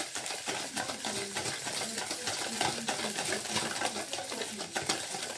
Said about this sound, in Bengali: ঘেটে আমি গুলে নেব চিনিটা ডিমের সঙ্গে ভালো করে